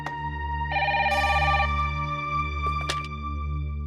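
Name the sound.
phone call ringing tone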